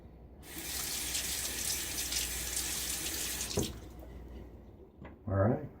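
Water runs steadily from a sink tap for rinsing after a shave with a Gillette safety razor, a constant close hiss that cuts off abruptly, followed by a brief splash and dribble.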